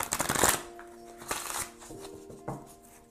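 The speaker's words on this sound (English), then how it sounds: "In fact, I'm going to go ahead and shuffle these." Tarot cards being shuffled by hand, a quick riffling burst at the start followed by a few softer slides and taps, close and quiet with faint background tones.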